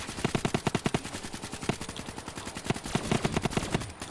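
Rapid automatic gunfire rattles from a LEGO zombie video game, in repeated bursts of quick, evenly spaced shots over a steady background din.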